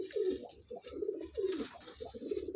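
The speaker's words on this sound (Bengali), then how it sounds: "এই ফ্যাঁসা নরটা এত সুন্দর বকে" A male pigeon coos in a loft. Repeated low, throaty coos come in a rolling rhythm, close and clear, with no speech.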